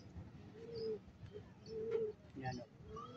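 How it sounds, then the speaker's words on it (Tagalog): A young pigeon gives soft, quiet coos in short bursts, close by, while a person talks nearby. "So, bali itong kalapati na to mga kaibon, young bird po ito, no?"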